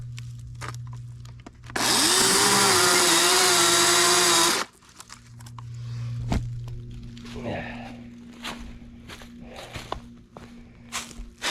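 A dull chainsaw roars steadily for about three seconds while cutting a piece of wood outdoors at an off-grid tiny house, loud and close, then stops, leaving scattered footsteps and handling knocks.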